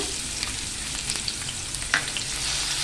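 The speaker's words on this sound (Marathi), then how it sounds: "कांदा आणि टॅमॅटो ना चांगला मऊ होईपर्यंत परतून घेऊया" Onion and tomato fry in hot oil for Malvani dry prawns, a dense, crackling sizzle, close and steady, with a few light spoon scrapes and no speech.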